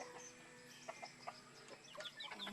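Pet chickens clucking softly in a backyard, several short, faint clucks scattered over a quiet background, with no talk.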